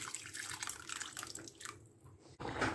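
Hot water from a pressure cooker that held boiled lentils is poured into simmering sambar, giving a soft, continuous splashing and trickling that ends in a brief pause and a short clatter.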